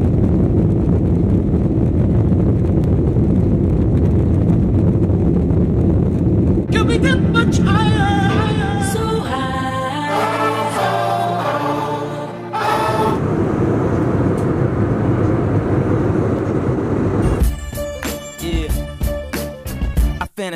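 Steady low roar of an airplane cabin, a constant engine drone, with music and voices coming in over parts of it.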